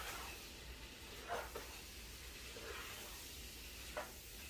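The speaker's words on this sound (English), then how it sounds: "you can hear it sizzling now" A faint, steady hiss of vegan chili sizzling in a pot, with a few soft stirring scrapes and clinks rising briefly above it.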